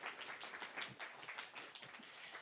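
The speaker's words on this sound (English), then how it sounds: "Let's give another big round of applause for Jen Morse." Audience applause at the close of a talk on reducing overwhelm, a dense steady patter of many hands clapping together for a couple of seconds, fairly near, with no voices over it.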